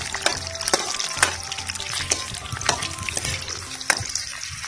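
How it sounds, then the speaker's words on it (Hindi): Garlic and chillies sizzle and spit in hot oil for a mountain river fish curry, with a steady frying hiss broken by sharp pops and occasional stirring clatter, close and fairly loud. "मिर्च आपसे ब्राउन होगी, इसमें पड़ गया लहसुन, लहसुन पड़ गया।"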